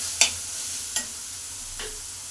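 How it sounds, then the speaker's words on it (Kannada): Masala being stir-fried in a pan for a healthy sabbakki greens and egg dish, with three sharp spatula scrapes against the pan over a steady, soft sizzle, no talking. "ಮಸಾಲೆ ಹಾಕಿ ಇನ್ನು ಸ್ವಲ್ಪ ಫ್ರೈನ ಮಾಡ್ಕೋಬೇಕು"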